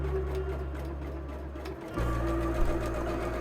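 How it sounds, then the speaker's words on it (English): Sewing machine running a steady line of gathering stitches on a double gauze shirt, a continuous close hum with a short pause and restart midway, alone with no talk. "sewing gathering stitches between the two notches in the center back"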